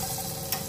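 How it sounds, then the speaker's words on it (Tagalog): Carrots and potatoes fry in hot oil for chicken curry, a close, steady sizzle with a brief sharp crackle partway through and no speech. "Prito ko na yung carrots at saka yung patatas."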